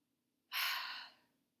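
A single forceful exhale blown out from the lungs, a breathy rush of air that starts abruptly, holds about half a second and trails off, heard alone and close.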